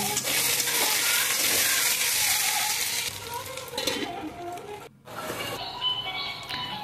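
Taro (arbi) cooks under a lid over a low flame, with a steady muffled sizzle and hiss that quiets briefly, then resumes with light crackling.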